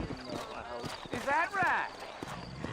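Horses trot through a town in Red Dead Redemption, their hooves clip-clopping in an uneven rhythm, with a horse whinnying briefly in the middle and a voice talking over it.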